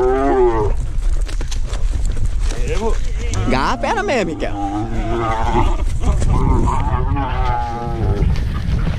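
Cattle bellow loudly and repeatedly up close, deep drawn-out calls, while people talk and shout nearby.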